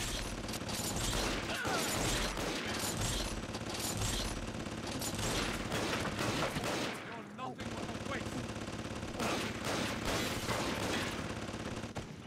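Dense, rapid gunfire from a weapon in the video game BioShock 2 rattles almost continuously, with a brief dip partway through before the shooting resumes at full loudness.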